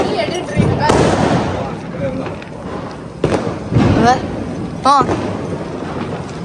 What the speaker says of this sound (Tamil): ஒரு பட்டாசு வைக்கிறதுக்கு